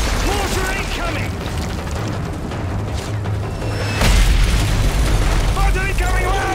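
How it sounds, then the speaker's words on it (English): Mortar shells burst during a Call of Duty: Modern Warfare 3 firefight in Sierra Leone, loud booms rumbling under constant battle noise and shouted voices, with a heavier blast landing around the midpoint. "Mortar incoming!"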